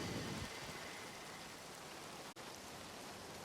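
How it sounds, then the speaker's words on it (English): Heavy rain pours down in a video game city street, a thick, continuous wash of dense hiss with faint low rumble, steady and close with no voices over it. "Ah, this rain. It's just pouring down."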